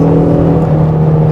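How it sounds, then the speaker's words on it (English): A 2024 Ford Mustang EcoBoost convertible, the base model with a turbocharged four-cylinder of 315 horsepower, drones loudly and steadily in a short, sustained note heard from inside the car. "Puts a big smile on my face every time I hear this engine."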